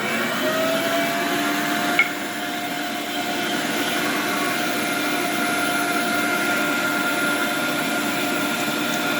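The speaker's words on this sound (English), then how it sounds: "I swapped out the blade, see, to the smaller blade. And we're gonna do our second grind on it" An electric meat grinder fitted with a smaller blade grinds deer meat a second time. Its motor drones steadily and loudly throughout, with one brief click early on.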